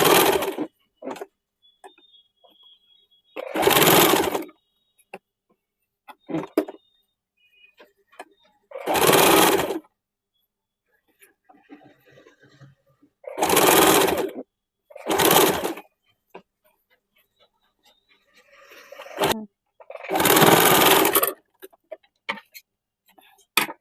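A sewing machine stitches a suit made from an old saree in several loud bursts of stitching, separated by quiet pauses, with faint handling sounds between runs and no talk.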